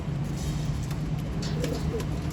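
Racing pigeons cooing in a loft, soft low coos repeating over a steady background hum, fairly close and without talk.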